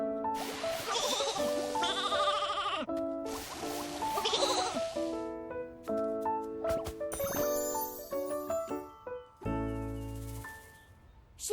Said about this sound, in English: Nikki, how about we give the sheep a grooming?